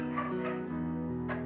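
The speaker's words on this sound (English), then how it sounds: "That's a dog." A dog in a video game gives short whimpering barks and yips, close and moderately loud, set against a sustained tonal background.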